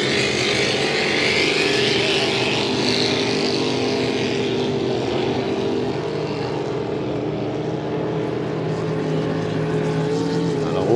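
Pro stock racing boat engines roar across the water at a hydroplane race on Valleyfield's Saint-François bay, a loud, continuous, droning whine with shifting pitch over the whole stretch, with faint commentary underneath.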